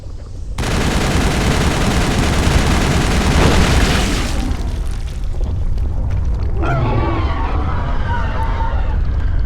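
Rapid video-game gunfire from Mass Effect pours at a target in a dense, loud barrage for about four seconds, then gives way to lighter clattering effects and game noise.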